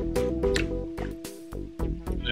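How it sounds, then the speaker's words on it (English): Water sloshes sand and gravel around a gold pan during gold panning at a museum, with wet splashing, drips and gritty swishing in irregular bursts, close and fairly loud. "You kind of let the water go up and wash the light material off the top."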